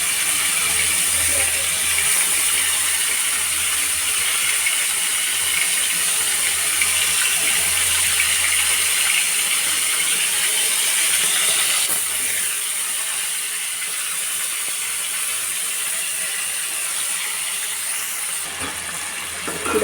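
Chicken deep frying in oil, a loud, close, continuous hiss of bubbling oil that holds steady for around twenty seconds with no talking over it.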